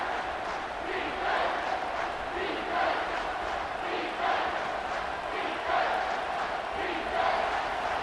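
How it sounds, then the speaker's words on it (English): Stadium crowd in a college football video game, Wisconsin Badgers at Michigan Wolverines, roaring continuously with swelling waves of noise on a third-down defensive play, loud and sustained. "Decibels rising as the crowd gets behind this defense on third down."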